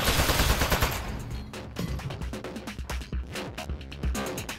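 A turret firing its gun in the Aperture Desk Job video game, a rapid rattling stream of shots at first, then a series of uneven quick pops and clatters.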